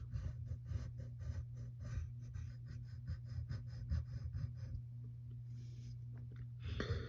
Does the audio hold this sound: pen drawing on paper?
yes